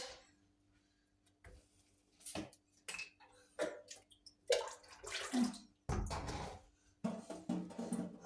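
Water splashing as a child's face is washed by hand, with irregular wet splashes and trickles in short bursts, some louder and close, between quieter gaps.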